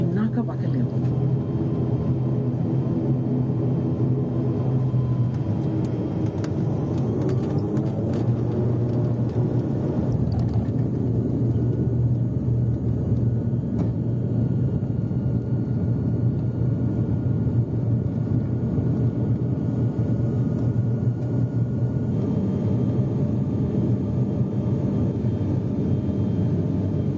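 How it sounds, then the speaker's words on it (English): Fiji Link turboprop taking off from Suva runway 28, heard from inside the cabin: a steady, loud engine drone and rumble that builds and holds throughout, with someone speaking over it. "And we're airborne out of Suva runway 28 this time."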